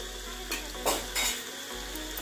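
Coriander and turmeric powder are stirred into onions frying with garlic-ginger paste in a pan for egg biryani: a steady close sizzle broken by a few scraping spoon strokes against the metal.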